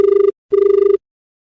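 A telephone rings for an incoming call on a Hindi-language radio phone-in folk song show: two loud, close bursts of electronic trilling, a short one then a longer one, with a brief gap between them.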